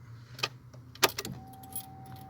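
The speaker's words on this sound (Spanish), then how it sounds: "Vamos a girar la llave de contacto" A car ignition key is turned during a fuel pump relay test: keys jangle, then a sharp click, followed by a faint steady hum that lingers to the end.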